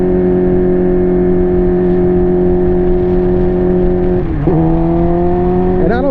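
Motorcycle engine held at a steady high rev, then briefly dropping and climbing again as a gear is shifted, with a second dip near the end; loud, close and continuous, no talk.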